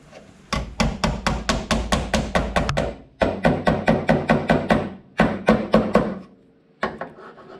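A tiny hammer strikes repeatedly while cracking a part during bonnet repair on a Ford Falcon XC GXL, fast evenly spaced metallic blows in three runs separated by short pauses, then a final lone tap.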